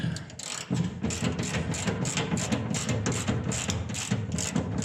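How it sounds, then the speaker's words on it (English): Ratchet straps are cranked tight during a fuel sending unit install. The pawl clicks in a fast, steady, close rhythm over a low mechanical rumble. "Tightening up the straps."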